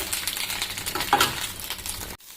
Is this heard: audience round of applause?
no